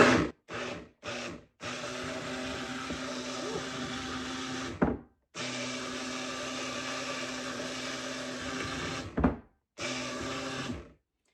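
A stick blender pulses aged garden peppers in a jar: short bursts of whirring motor, then two long steady runs broken by brief stops, close and fairly loud.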